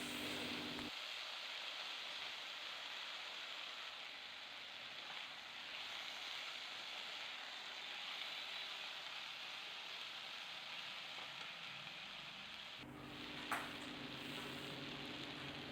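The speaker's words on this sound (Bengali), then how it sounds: "নুন দিয়ে আবার আলুটাকে নাড়াচাড়া করে মিনিট খানেক ভেজে নেব" Salted potato pieces stirred and fried in a pan, producing a soft, steady hiss that holds for several seconds and then cuts off, with a faint clink near the end.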